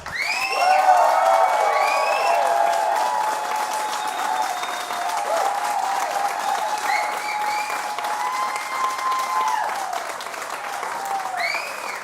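Loud, sustained applause from a large crowd, with cheers and whistles rising above the clapping throughout.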